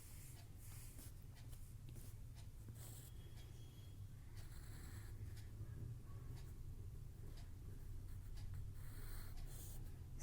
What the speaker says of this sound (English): Now you can draw triangles like this.